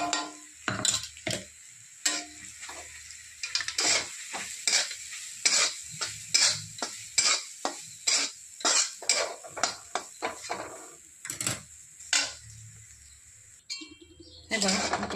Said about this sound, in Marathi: तेल झालं गरम, आपण ह्याच्यात चटणी टाकून परतून घेणार आहोत 5 मिनिटासाठी।